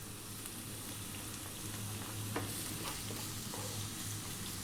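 Onion and garlic frying over high heat in olive oil in a pan, a steady close sizzle with faint stirring scrapes, and no talking.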